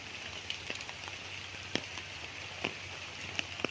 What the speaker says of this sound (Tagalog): malakas po ang ulan pero hindi po ito binabaha